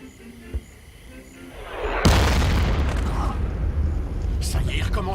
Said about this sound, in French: Ça y est, ils recommencent avec leurs obus